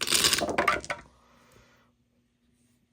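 Dice clatter down a dice roller tower during a Star Wars Legion tabletop battle, a dense rattling burst that stops abruptly after about a second and leaves near silence.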